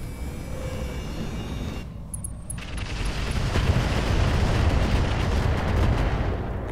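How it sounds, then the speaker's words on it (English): Enemy weapons firing in the mech video game Roguetech, with loud booming blasts and rumbling impacts that build and continue steadily, close and heavy. "They're shooting at me."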